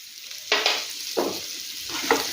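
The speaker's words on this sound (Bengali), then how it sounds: "আবারও ভালোভাবে নেড়ে চেড়ে মিশিয়ে নেব" Jeera aloo with green chillies and kasuri methi being stir-fried, three spatula strokes scraping through a soft, steady sizzle, close and moderately quiet.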